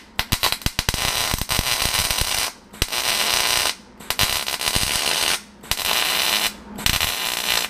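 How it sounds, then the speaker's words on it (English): A MIG welder stitch-welding sheet metal onto a time attack roll cage rocker box makes loud, close, crackling sizzle bursts of about a second each, separated by short quiet gaps, with rapid spatter pops at the start. "stitch welding is a good technique there to ensure that when the puddle builds up on the heavier gauge"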